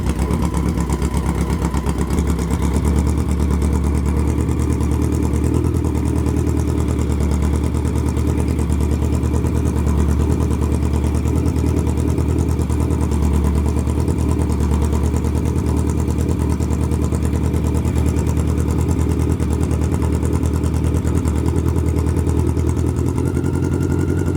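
A 1986 BMW K100 motorcycle idles evenly during a carburetor sync, giving a steady, close mechanical thrum with a fine clattering texture and no change in speed, with no talking throughout.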